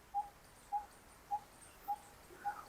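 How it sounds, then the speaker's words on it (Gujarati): A bird repeats a short, sharp tick five times at an even, brisk pace, like a clock's second hand. Each note is clear against a faint, quiet outdoor background. "એ એક એક સેકન્ડનો કાંટો જેમ ફરે ને એમને ટૂંક ટૂંક ટૂંક ટૂંક સંભળાય છે તમને?"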